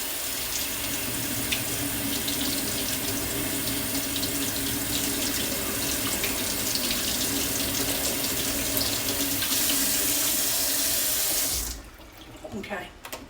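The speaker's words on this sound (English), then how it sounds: "the tomatoes, I'm going to wash them." Tap water runs steadily into a kitchen sink while tomatoes are rinsed under it, a continuous loud splashing rush that cuts off near the end, leaving quieter handling noises.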